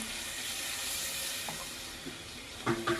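Water hits a hot pan of chicken gravy, a broad steady sizzle and hiss that holds throughout, with a few faint clinks near the end.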